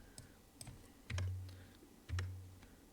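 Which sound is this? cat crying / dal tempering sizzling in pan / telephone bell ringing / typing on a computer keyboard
typing on a computer keyboard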